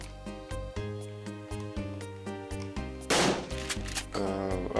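A single shotgun blast in a video game, a loud broadband burst near the middle of the clip that rings out over steady synthesized game music.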